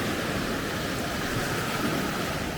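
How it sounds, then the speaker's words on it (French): Sea waves wash onto the shore in Turkey, giving a steady, loud broadband rush of surf with wind noise on the microphone and no pauses. "Les vagues! L'eau qui arrive"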